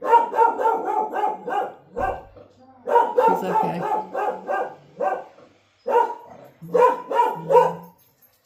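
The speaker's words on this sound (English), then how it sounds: "my dog is just going wacko right now" A dog barks frantically indoors, apparently at someone out front, firing repeated bursts of loud, close barks in rapid clusters with brief pauses, while a person speaks briefly between them.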